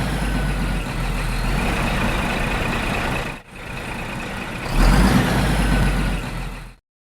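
A bus idles with a low engine rumble, then pulls away with a louder surge of the motor before cutting off abruptly, with no voices.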